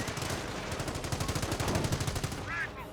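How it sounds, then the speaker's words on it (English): A .30 cal machine gun in the Company of Heroes 1 game fires a long, steady stream of rapid rounds against Panzer Grenadiers, loud and continuous amid dense battle noise. "30 cal firing away, hitting these Panzer Grenadiers once again."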